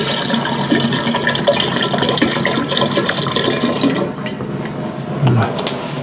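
Bottled water pours steadily into a container with a continuous splashing, gurgling rush that eases slightly toward the end, close and fairly loud.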